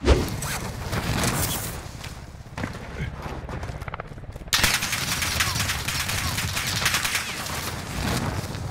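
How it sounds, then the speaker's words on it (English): Gunfire from Far Cry 6 gameplay fills the mix with dense, rapid bursts of shots and game noise. A brief quieter gap interrupts it before the loud firing resumes. "guy just shot somebody in here, no?"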